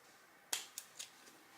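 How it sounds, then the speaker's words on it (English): Scissors snip through the cords of a Dollar Tree treat bag for a Christmas decoration, giving three or four sharp, quiet, close cuts spaced about a quarter second apart in a hushed room. "And then I'm gonna cut these cords."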